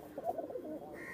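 Pakistani high flying pigeon giving a brief, faint cooing burst of a few low warbling notes, close by against quiet background hiss.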